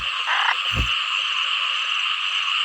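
In a flooded rice field after heavy rain, a dense chorus of frogs croaks steadily at a distance, with one short, louder, low croak up close near the start.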